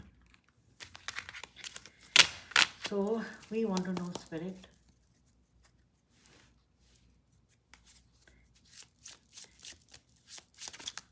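Cards riffle and slap in quick bursts near the listener, with a person speaking briefly in between and a soft run of shuffling at the end.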